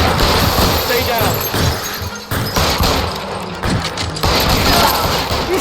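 Loud gunshots crack and shatter amid a 1947 police shootout in the video game LA Noire, dense bursts with crashing impacts and shouting voices layered throughout.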